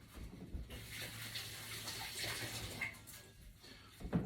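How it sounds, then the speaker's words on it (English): Hands are washed under a running kitchen tap, giving a faint, steady splashing rush of water with small clatters. "I'm going to wash my hands."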